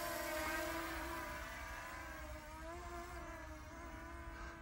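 A small Holy Stone HS175D quadcopter drone flies outdoors over a farm field, giving off a steady high-pitched motor whine whose pitch wavers and drifts as it moves. It carries on for several seconds with no talk.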